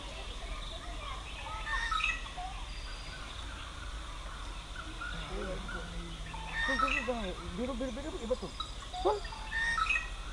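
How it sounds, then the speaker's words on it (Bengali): A peacock calls at the Bardhaman zoo, several loud harmonic cries breaking out over a murmuring crowd and scattered chirps of other birds. "এখানে একটি ময়ূর রয়েছে"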